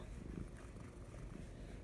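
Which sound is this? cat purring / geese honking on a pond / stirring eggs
cat purring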